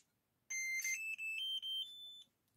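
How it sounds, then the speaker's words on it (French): An Axial SCX10 III Basecamp RC car's radio transmitter binds, giving a short series of clear electronic beeps, close and alone in an otherwise quiet room. "Faut toujours attendre le petit bip bip. Là, ça veut dire qu'il s'y est mis."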